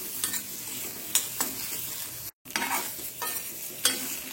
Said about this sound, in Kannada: ತುಪ್ಪ ಹಾಗೂ ಮೆಣಸಿನ ಪುಡಿಯಲ್ಲಿ ಇದು ಚೂರು ಹೊತ್ತು ಮಿಕ್ಸ್ ಆಗಲಿ